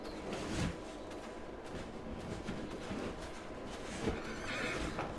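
A horse in the farming game Farming Simulator 22 neighs and whinnies, with soft hoof clops and movement noises underneath, fairly close and steady over a few seconds.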